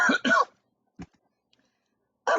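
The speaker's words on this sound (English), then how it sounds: "I'm having a cough." A man coughs and clears his throat up close: a harsh double rasp at the start, a single short hack in the middle after a pause, and another gravelly burst at the very end.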